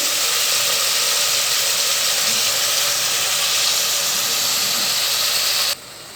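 Pandan and mint leaves sauté in a hot pan for a Kerala pulao, giving a steady loud sizzling hiss that runs unbroken, then drops to a softer level near the end.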